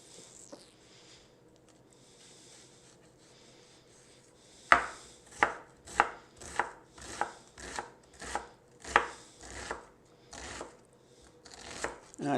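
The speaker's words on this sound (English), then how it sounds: "So I'm going to cut them relatively small so they'll blend into the sauce." A knife dices onions into small pieces on a cutting board, beginning after a quiet stretch and then striking in a steady rhythm of crisp, evenly spaced chops, close and fairly soft.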